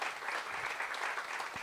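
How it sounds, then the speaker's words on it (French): Warm, sustained applause from a conference audience at an innovation event in Montpellier, many hands clapping steadily at moderate volume. "surtout des applaudissements nourris pour Théo"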